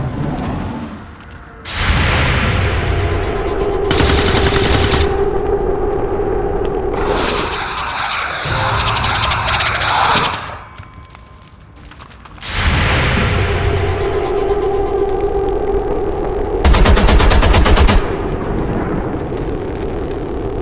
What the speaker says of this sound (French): J'ai tiré dans le vide.